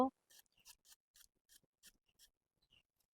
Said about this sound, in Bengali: আলুটা কেটে নিচ্ছি প্রথমে